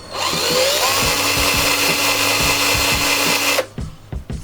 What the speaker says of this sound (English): I just want to get a little hole at the start, so I can get the screws in properly.